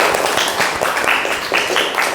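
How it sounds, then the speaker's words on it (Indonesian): A class of students claps together after a group presentation, a short burst of fairly close, uneven hand claps with faint voices underneath. "Tepuk tangan dulu."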